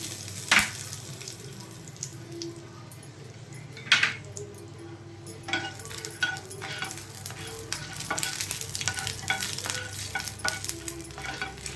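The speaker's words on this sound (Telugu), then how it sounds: "ఒక పదిహేను లాగా ఎండుమిర్చి తీసుకోనండి ఇవైతే ఇందులో వేసుకుందాం" Fifteen dried red chillies frying in a little oil in a pan for mint chutney, giving a steady sizzle with stirring scrapes and a few sharp clinks of utensil against the pan.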